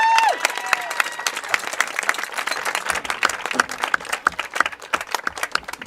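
A crowd at a high school football game claps steadily in sustained applause for a senior player, a dense, fairly loud patter of many hands that continues throughout.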